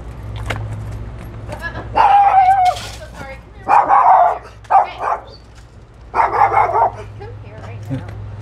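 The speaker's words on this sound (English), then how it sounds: "The neighbor's dog." A neighbor's dog barks nearby in several short bursts of rough, loud barks, separated by pauses, with some low background noise between them.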